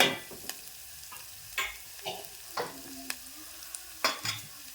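Onion frying in a pan for a village-style eggplant bharta, a soft background sizzle broken by irregular scraping and clinking of a spatula stirring against the pan, close and fairly quiet.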